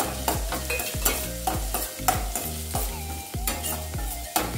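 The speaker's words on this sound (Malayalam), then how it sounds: "ഇനി ഇത് നല്ലതുപോലെ ജസ്റ്റ് ഒന്ന് ഫ്രൈ പോലെ ഇതൊന്ന് വഴറ്റി എടുക്കാം" Ginger and green chillies sauté in a pan for veg momos, a busy sizzle broken by repeated scraping stirs of a spoon against the metal in a quick, uneven rhythm, with no voices.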